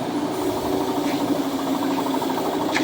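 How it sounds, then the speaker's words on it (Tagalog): Several air compressors running in a paint workshop for epoxy enamel spraying, a steady loud mechanical drone with a rough, knocking pulse, continuous throughout. "Mga compressor o."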